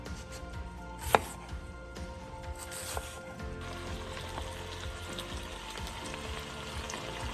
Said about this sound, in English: Then you're gonna take your onion and you're gonna score it down the sides like this.